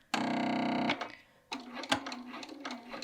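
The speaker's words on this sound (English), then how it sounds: "I am going to machine baste this so you can have an idea of what that looks like" A sewing machine set to a long 4.5 basting stitch runs across fabric in a loud, fast, even burst, stops briefly, then starts again with a softer, uneven whir and clicks nearby.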